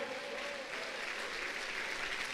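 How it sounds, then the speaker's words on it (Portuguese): A church congregation at a Monday evening service applauds with dense, sustained clapping that fills the room loudly and evenly throughout. "Você consegue aplaudir mais forte o nome do Senhor?"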